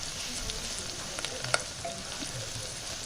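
Sliced mushrooms are stirred into a sizzling biryani masala in a hot pan, giving steady close frying hiss with soft scraping stir strokes and a few sharp spatula clicks against the pan.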